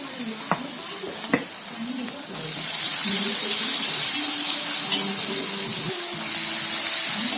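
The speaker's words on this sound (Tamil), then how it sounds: "நல்லா வதங்கட்டும்." Cauliflower egg podimas sautéing in a pan, a few spoon scrapes over low frying that swells into a loud, steady hiss of sizzling partway through, close with no talking.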